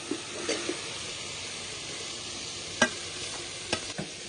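Jackfruit pieces added to spice paste frying in oil for a Bengali jackfruit curry, stirred in the pan: a steady soft sizzle broken by a few sharp scraping clicks of the spoon, with no voices.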